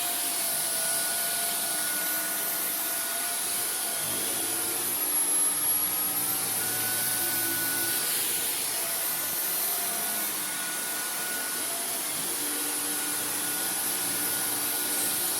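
Dyson V15 Detect cordless vacuum running on boost power over carpet, a steady loud whine with a constant motor tone, alone without talk throughout.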